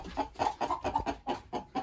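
A chicken clucks close up in a quick run of about eight short, throaty notes, one after another with no other sound.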